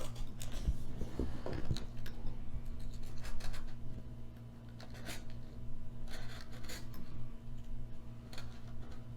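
Scissors cutting through material for a junk journal, quiet intermittent snips and ticks against a low steady hum, close but faint, no voices.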